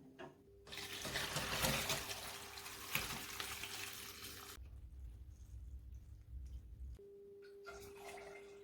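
Homemade ginger beer drains into containers as a steady rush of pouring, splashing liquid, loud at first and then settling into a quieter trickle with a few brief surges.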